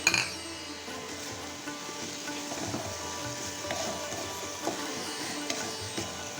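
Dried fenugreek leaves (kasuri methi) are stirred and fried in a pan with a spiced masala, a soft continuous sizzle with occasional light clinks of a spoon against the pan, close and moderate, no talking.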